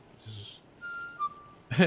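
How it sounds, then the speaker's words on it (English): A short whistled tune of a few thin, clear notes, followed by a brief burst of a voice at the end. "It's a whistle, right?"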